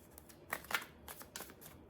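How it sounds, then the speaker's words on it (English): A deck of tarot cards is shuffled by hand, giving a few soft, quick riffling bursts close by at low volume, with no talking. "So I'm feeling like we need to shuffle."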